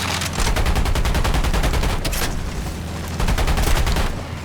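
Cannon fire in the War Thunder flight game bursts in rapid, loud, rattling volleys from behind the aircraft, one long string of shots, a short gap, then another burst over a constant engine roar.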